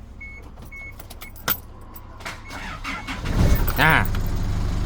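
A Chevrolet pickup truck engine cranks and catches, firing up into a low rumble, with a quick click and a brief murmured voice beforehand.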